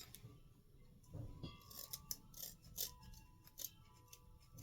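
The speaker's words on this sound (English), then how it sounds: "Just make sure you've got a nice pair of sharp scissors." Several short, crisp snips of scissors cutting, spaced irregularly, close and fairly quiet against a low background hum.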